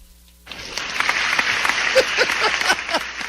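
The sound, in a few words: round of applause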